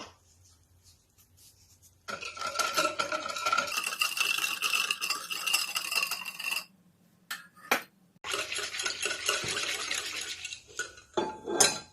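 Yeast and sugar are mixed in a bowl with a spoon or whisk, giving steady scraping and clinking that runs for several seconds, pauses briefly, then resumes and carries on to the end.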